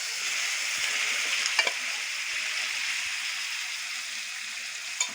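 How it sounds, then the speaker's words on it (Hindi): Batter fries in hot desi ghee with a soft, even hiss and a few faint clicks and taps near the pan, fairly quiet and steady with no speech. "अब मेरा घी गरम हो गया। अब मैं डाल रही हूँ इसमें सारे बैटर"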